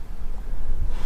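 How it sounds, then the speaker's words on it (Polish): Strong wind buffeting the microphone, a loud continuous low rumble with gusty swells and no voices. "sorry za wiatr, ale no wieje jak cholera"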